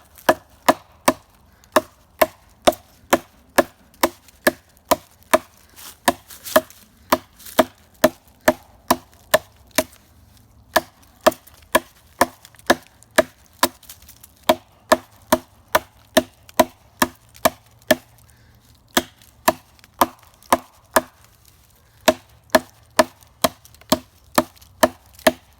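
Steady series of sharp, knocking chops as a Tops D.A.R.T. knife with a bellied blade bites into wood, dozens of crisp evenly spaced impacts close up with brief pauses between bursts.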